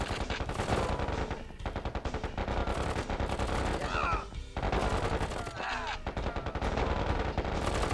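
Dense rapid gunfire from units in the real-time strategy game KKND, a near-continuous rattle of machine-gun bursts with brief gaps, loud and close throughout.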